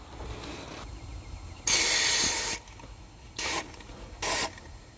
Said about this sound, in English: let's spray the heck out of that with some penetrating oil